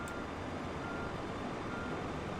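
A catering truck backs up in Microsoft Flight Simulator 2020, its reversing alarm repeating as a steady beep under constant engine and airport ambience.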